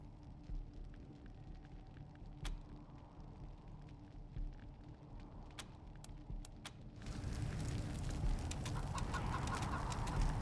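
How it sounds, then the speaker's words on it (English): A cyborg chicken in the post-apocalyptic game Wasteland 3 gives faint, scattered clucks over a low game ambience, which swells into a denser hiss partway through, with no talking. "Cyborg chicken."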